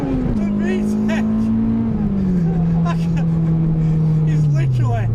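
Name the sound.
Honda Integra Type R DC2 engine revving into VTEC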